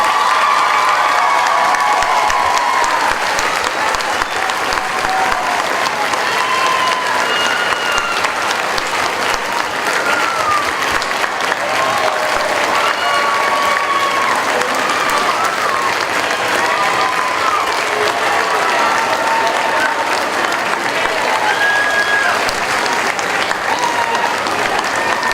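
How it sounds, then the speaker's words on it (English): Sustained applause and cheering from a crowd at a middle school commencement ceremony honouring graduates, steady and full for about twenty-five seconds, with scattered shouts and voices rising above the clapping. "I think we all owe you a round of applause"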